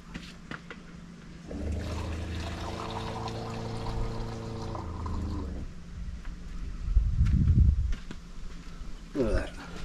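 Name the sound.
half a litre of water being poured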